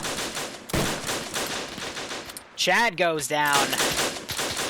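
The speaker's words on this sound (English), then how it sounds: "So you got this machine gunner up here just kind of shooting into the trees here." Machine gun fire in a WW1 video game battle, shooting into trees: sustained rapid automatic bursts close by, loud and continuous, broken by a short pause while someone talks.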